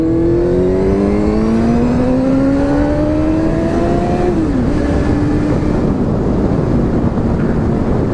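Vehicle engine accelerating on a de-restricted straight on an Isle of Man road from Ramsey to Point of Ayre, rising pitch through a gear, a brief dip at a shift, then steady cruising under strong wind noise, close and loud.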